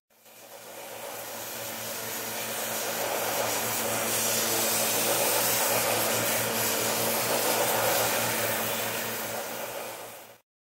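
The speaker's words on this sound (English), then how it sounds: "I have a nice little belt sander here that's really good for doing small jobs like this." A small belt sander grinds gobs of solder down during cleanup, its motor spinning up, whirring loudly and steadily with a grinding rasp, then cutting off abruptly at the end.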